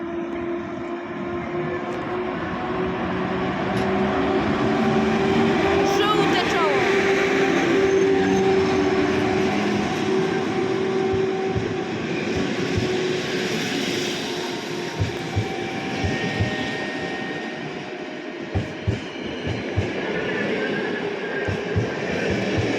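An EP07 electric locomotive pulls a train away at Gdynia, a steady loud rumble with rising motor whine and clattering wheels that continues close by throughout.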